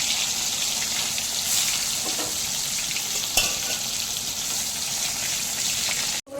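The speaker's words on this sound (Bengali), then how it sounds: "গরম তেলে করলাগুলো দিয়ে উল্টে পাল্টে মোটামুটি ভেজে নিতে" Bitter gourd pieces fry in hot oil in a pan, giving a loud, steady sizzle and crackle up close, with a few faint stirring clicks and no voices.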